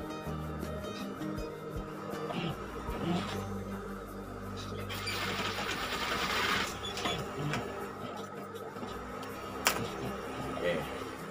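A sewing machine stitches the lining of a men's suit jacket, an inner pocket handle piece, running in a steady mechanical whir with short pauses and bursts throughout, fairly soft with some background noise.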